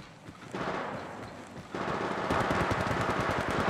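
Close gunfire in Apex Legends Mobile during a squad fight: a sharp burst hits, another louder burst follows, then rapid, steady automatic shots rattle on with a dense, booming tail.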